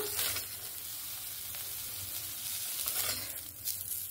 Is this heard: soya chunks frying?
yes